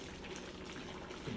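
A pot of pork mechado simmering at a steady boil, a soft continuous bubbling and hiss heard close and fairly quiet, with no voices over it.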